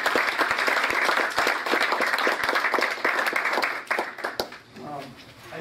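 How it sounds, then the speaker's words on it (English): Audience applause in a school-district meeting, dense clapping from a room of people holding steady for several seconds before thinning out near the end, with a bit of voice mixed in. "applause for that"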